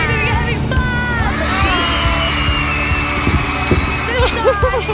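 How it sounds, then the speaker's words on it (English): A crowd of fifth graders at a school graduation screams and cheers, high excited voices swelling together in a dense, loud, continuous roar with shouts rising throughout. "This side, give me a scream if you're having fun."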